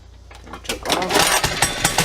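A mini bike's small gasoline engine sputters and catches, then runs with a rough, uneven putter that grows louder over about two seconds, close to the microphone.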